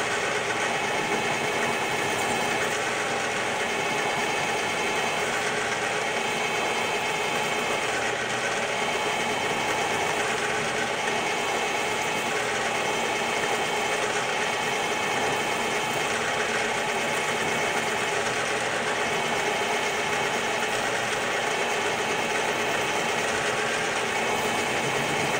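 Steady, loud machine whir of a milling machine endmill boring a large hole into metal, continuous and unbroken throughout with a constant mechanical hum and no talking.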